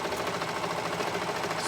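A sewing machine stitching a seam in a pair of shorts, running in a steady, continuous mechanical whir close by with no pauses and no talking.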